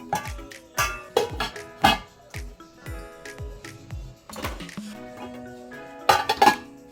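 Metal pots, pans and lids being put away in a kitchen cupboard, a series of sharp clanks and ringing clinks in irregular bursts, some louder knocks and scrapes, with quiet pauses between the handling sounds.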